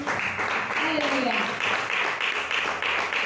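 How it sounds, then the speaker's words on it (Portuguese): Congregation clapping during a church service, dense steady applause filling the whole stretch with faint voices mixed in. "Você pode aplaudir o Senhor por essa palavra?"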